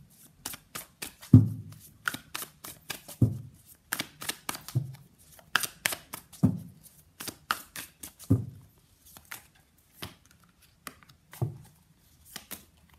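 Tarot cards are shuffled and pulled from the deck, making a quiet run of crisp riffling flicks and soft slaps in an irregular rhythm, close by with no one speaking.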